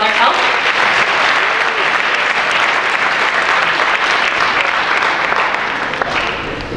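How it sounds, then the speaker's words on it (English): An audience at a school gathering of high school students gives a sustained round of applause, steady dense clapping that holds loud throughout and eases off slightly toward the end. "So let's give them a round of applause for all their help."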